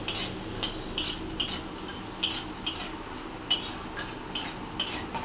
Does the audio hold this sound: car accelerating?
no